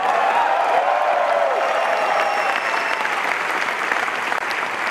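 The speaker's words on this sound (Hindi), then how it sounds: "कितने लोग तालियां बजाएंगे, कितने लोग चिल्लाएंगे" A large crowd at an Amway Diamond celebration applauds and cheers continuously, a loud dense roar of clapping with whoops and shouts layered over it across the whole stretch.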